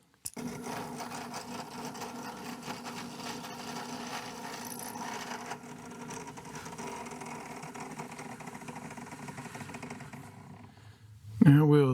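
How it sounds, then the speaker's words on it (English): A drill bores a pass-through hole in a liner-lock knife liner, a sustained close mechanical whir running for about ten seconds before a sharper, louder burst at the very end. "we'll drill the pass-through hole"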